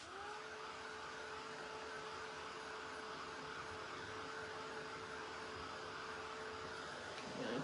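Hair dryer blowing steadily to dry paint on a Christmas Santa craft piece, a continuous close whooshing roar with a steady motor whine that holds evenly for several seconds and cuts off near the end.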